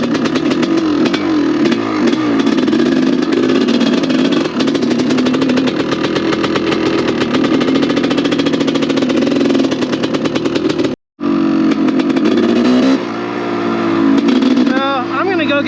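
A Honda CR500 dirt bike engine running rough and needing carburetor work, loud and close with a harsh, uneven two-stroke drone throughout and a brief cut near the end before it picks back up.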